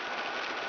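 Rain falls on Long Island as a steady, dense patter of drops on surfaces, even and moderately loud throughout the brief moment, with no voices.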